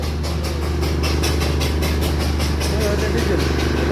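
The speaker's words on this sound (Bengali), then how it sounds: "একটা স্টিম ইঞ্জিন চলে গেল। আর একটা টয় ট্রেন যাচ্ছে, একটা ডিজেল ইঞ্জিন।" A Darjeeling toy train with steam and diesel engines passes at Batasia Loop, with a steady low engine rumble and rhythmic clacking of wheels over rail joints, while people talk nearby.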